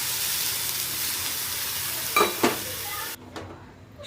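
Hiss of vermicelli frying in ghee, followed by a couple of sharp spoon scrapes and a sudden damping as boiled milk is poured into the pan, leaving a softer bubbling simmer.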